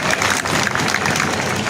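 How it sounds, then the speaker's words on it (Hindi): An audience at an evening village assembly in Chuli bursts into loud, dense applause that holds steady from start to finish. "एक बार जोरदार तालियां उनके लिए आपके।"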